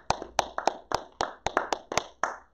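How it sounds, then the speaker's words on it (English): A church congregation claps along in a steady rhythm, about ten sharp, even hand claps ringing out in a reverberant room, with no voices over them. "give the Lord a clap"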